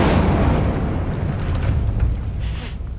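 An Incendio fire spell in Hogwarts Legacy erupts in a loud, dense whooshing roar that sustains for about three seconds with a brief bright flare near the end.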